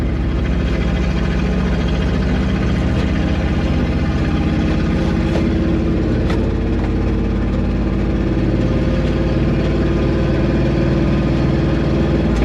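An old Dodge Sweptline pickup truck engine idles loudly and steadily close by, a constant low rumbling drone with a faint rattle and occasional small clicks.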